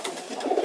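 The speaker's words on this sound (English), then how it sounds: "She's a very nice pigeon." A racing pigeon, a hen held in the hand during a loft visit, gives a short, soft coo close up, with a faint airy background and no talk.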